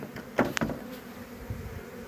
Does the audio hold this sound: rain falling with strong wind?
no